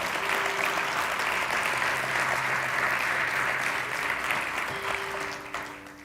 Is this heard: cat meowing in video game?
no